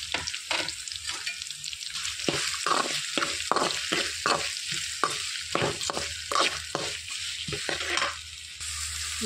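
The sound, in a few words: chopped onions frying with raw banana in a pan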